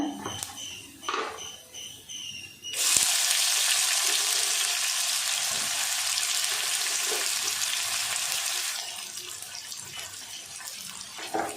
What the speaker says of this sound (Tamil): வெங்காயம் நல்லா வதங்கி வரட்டும்